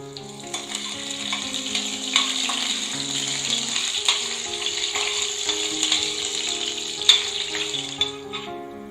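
Cashews frying in ghee in a cooker pan give a steady sizzle with scattered soft pops and stirring scrapes, close and moderately loud, with a faint tonal hum underneath.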